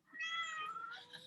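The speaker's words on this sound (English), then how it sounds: "Oh, I heard your kitten." A kitten meows once, a short rising-and-falling cry heard close and clear indoors with no talking over it.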